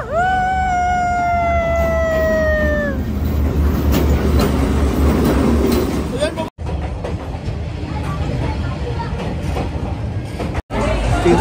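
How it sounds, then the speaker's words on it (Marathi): A train rolls slowly and very close through Hanoi's narrow train street, a steady loud rumble with rail clatter and a horn-like tone early on, people chattering around it. "ट्रेन आलेली आहे आणि मी आता तुम्हाला दाखवते ट्रेन कशी जवळून जाते."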